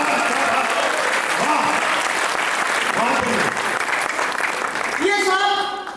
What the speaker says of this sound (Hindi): हमें भी तालियों की गड़गड़ाहट अच्छी लगती है